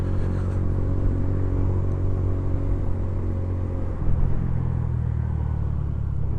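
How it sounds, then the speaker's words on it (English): A concrete lorry passes a motorcyclist on the road: a heavy, steady engine rumble mixed with wind roar, its pitch shifting about two-thirds of the way through. "Concrete lorry."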